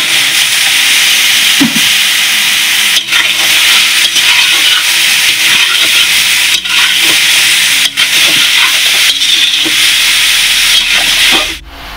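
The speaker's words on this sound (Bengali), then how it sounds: "আমগুলো এবার অল্প অল্প করে দিয়ে দেবো আমি।" Mango pieces for a jaggery pickle land in a hot pan and set off a loud, continuous, close sizzling hiss. It holds steady for about twelve seconds before cutting off.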